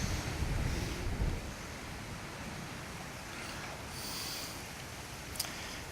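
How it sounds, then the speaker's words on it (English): Ocean surf rolling behind a beachside cottage near Kite Beach, heard as a steady broadband wash blended with gusty wind noise against the microphone, with no one talking. "The ocean is behind me."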